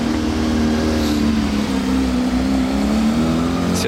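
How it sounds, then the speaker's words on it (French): A Porsche 911 GT3 RS of the 992 generation on a Monaco street, its engine a loud, steady, close drone that holds level throughout with no voices. "GT3 RS 992."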